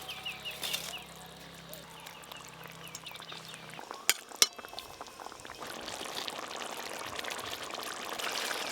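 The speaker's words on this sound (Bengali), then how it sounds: "ভেজে রাখা ধোকাগুলো দিয়ে দেব।" Fried lentil cakes, some made with beetroot, are dropped into bubbling fish gravy for a Bengali curry, giving a soft pour and splash with a couple of sharp clinks mid-way and a steady simmering hiss that builds toward the end.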